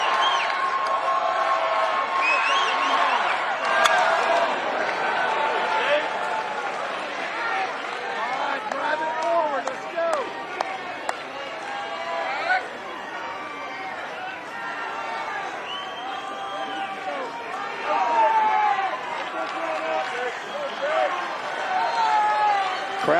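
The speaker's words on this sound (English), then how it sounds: "Crowd into it." Crowd at a college baseball stadium during an NCAA tournament game between UConn and Oklahoma State, a steady roar of cheering and chatter with swelling peaks, heard under an announcer's commentary.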